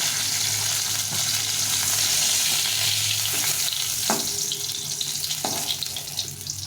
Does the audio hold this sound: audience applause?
no